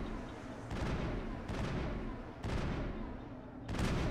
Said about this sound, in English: You're just annoying with all the shooting.